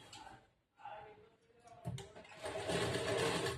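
An electric sewing machine stitches the hem of a churidar top, its motor whirring up steadily in the second half after quieter fabric handling and a faint voice at the start.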